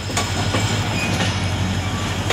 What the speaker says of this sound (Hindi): 47 अब रहमान बाबा एक्सप्रेस डिपार्चर नवाबशाह जंक्शन